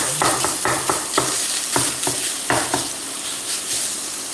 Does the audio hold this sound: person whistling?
no